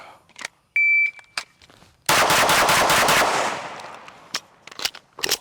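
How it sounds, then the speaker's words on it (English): A Springfield Armory DS Prodigy pistol fires several sharp shots, then a rapid burst of close, loud gunfire with ringing decay, and a beep sounds near the start. "started shooting a few hundred more rounds through this gun"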